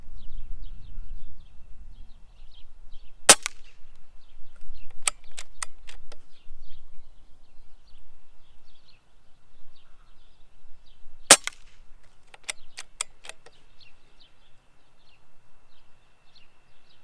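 A Benjamin Marauder air rifle fires at a target, with two sharp, loud cracks several seconds apart, each followed by a quick cluster of lighter metallic clicks, over an otherwise quiet outdoor background.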